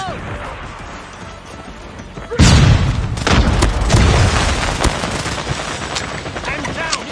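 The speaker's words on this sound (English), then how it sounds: "Grenade out!" A grenade explodes with a heavy boom in a first-person shooter match, followed by scattered gunfire and loud game action, close and dense.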